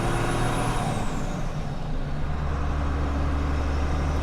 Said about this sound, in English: There you can hear some good boost.